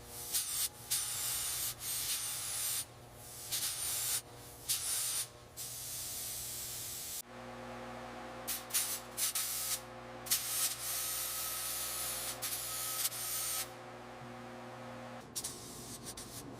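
Olive green paint hisses from a spray gun onto the sheet metal of a 1948 Ferguson TEA-20 tractor during a second coat, in repeated bursts of a few seconds separated by short pauses.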